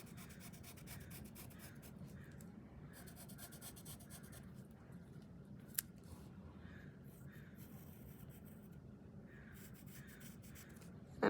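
A pencil scratches across thin patty paper while tracing a triangle, soft close-up strokes of rubbing and scraping in short bursts, faint and steady with one sharp tap near the middle.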